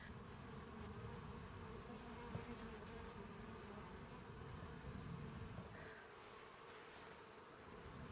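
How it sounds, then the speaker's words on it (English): Honeybees fly around their hive in summer, with young bees out on orientation flights. Their buzzing is dense and continuous, holding steady and fairly close for the whole stretch. "lots of bees flying around"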